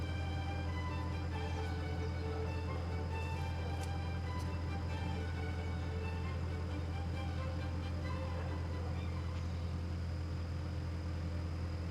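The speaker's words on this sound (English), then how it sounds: "let's watch me driving it around a little bit. Driving the skid steer." A Caterpillar 257B skid steer is driven, its diesel engine a steady low droning hum with faint mechanical rattles throughout, heard at moderate distance and fairly quiet.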